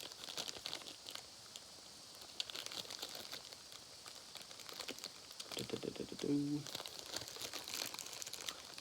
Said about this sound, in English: There's several of these bags are like taped together, so trying to open them.